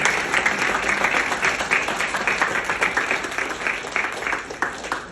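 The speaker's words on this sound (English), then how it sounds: "please join me in the thunderous round of applause for this magical duo." A thunderous round of audience applause at a celebration of fifty years on stage for a music and performance duo, steady and full throughout with no voices over it.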